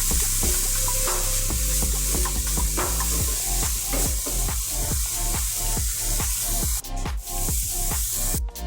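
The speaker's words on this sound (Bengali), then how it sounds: "সমস্ত উপকরণগুলোকে আমি ভালো করে মিক্স করে একটু ফ্রাই করে নেব" Sandwich filling of vegetables with beetroot and chopped green chili fries in a pan, a loud continuous sizzle with rhythmic scraping stirs of a spatula, close up and without speech.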